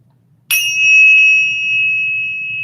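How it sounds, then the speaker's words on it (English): A single chime struck once, ringing out with a bright sustained metallic tone that slowly fades over a faint low background hum. "And you'll hear the sound of my chimes."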